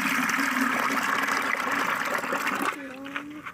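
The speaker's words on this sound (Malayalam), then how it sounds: "നമുക്ക് ഈ ബക്കറ്റിലേക്ക് അല്പം ഒഴിച്ചു കൊടുക്കാം" Diluted liquid fertilizer for tomato plants streams into a bucket with a steady splashing rush for nearly three seconds, then stops as a voice speaks briefly.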